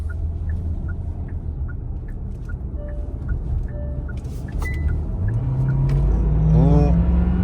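A car engine rumbles at idle under a regular chiming alert, then, switched into sport mode, revs up sharply with a rising whine as it accelerates hard.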